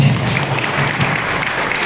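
Steady applause from an audience at a school retirement ceremony, continuous dense clapping that fills the room evenly without any speech over it.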